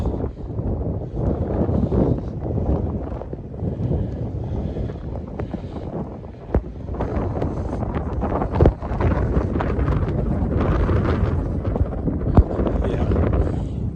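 Blizzard wind in Regina buffeting the microphone, a continuous loud rushing roar with gusty surges and sharp bumps, steady through the whole stretch, no talking.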